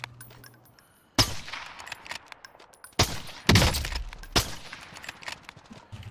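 Gunfire in a shooter video game: sharp, loud bursts of shots arriving in several separate volleys with quieter gaps between, close and punchy, with no talk over them.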